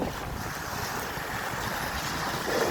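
Steady wind, about 40 mph, buffets the microphone over churning, choppy water, a constant rough roar with no voices.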